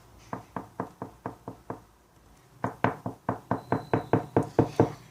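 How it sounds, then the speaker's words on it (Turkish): Knocking on a door in a home during a children's doll play scene: a first run of about seven steady knocks, a brief pause, then a second, louder run of about ten quick raps, with no talking. "Kapı çalıyor ben bakarım."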